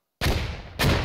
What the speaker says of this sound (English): Beautiful grenade taking down 5.